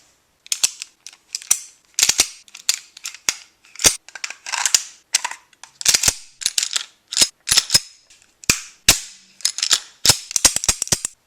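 Toy cap gun or replica firearm fired and clicked in rapid irregular bursts, sharp close snaps and mechanical ratcheting clacks repeating throughout with brief gaps, no talking.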